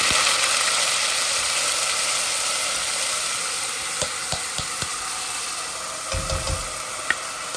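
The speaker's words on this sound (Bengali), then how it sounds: "এই যে আমার শুকনা উপকরণগুলা ভাজা হয়ে গেছে এগুলা" Dry spices and onion fry in a pan with a steady, fairly close sizzle, joined later by a few light clinks and scrapes of stirring.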